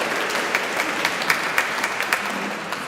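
A concert audience in an abbey applauds the cellist Sophie at a choir concert, sustained even clapping with a reverberant room sound and no voices.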